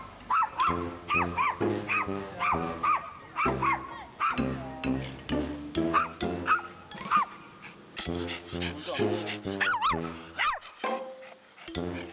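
A household dog barks and yips in rapid, agitated bursts while chasing its owners toward the bathroom or bedroom indoors. Loud, close and nearly continuous, with a few whimpering yelps and brief gaps.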